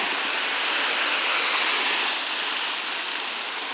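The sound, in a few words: rain falling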